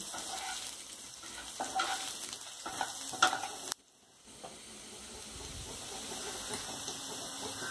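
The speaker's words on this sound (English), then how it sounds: "And ginger. Saute well." Ginger sautéing in a pan for Indian-style fried rice, a steady close sizzle with scraping stir strokes, briefly dropping quiet partway through before the frying hiss resumes.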